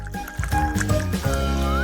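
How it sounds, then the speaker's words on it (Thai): Vegetable juice poured into a glass gives a liquid gurgle and filling sound over a bright musical backing, with no voices. "และจากนั้นก็เทน้ำผักลงไป"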